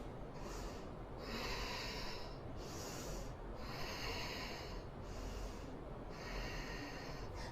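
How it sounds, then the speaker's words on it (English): Slow, deep breathing exercise: long, airy inhales and exhales repeat in a steady rhythm, about four full breath cycles, close and fairly loud with no talking. "So, while doing deep breathing,"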